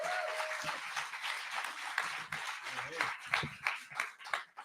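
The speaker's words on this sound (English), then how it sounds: "give them a huge cheer." An audience at a night of Gaelic culture bursts into loud applause and cheering, a dense wash of clapping that pulses and swells for several seconds.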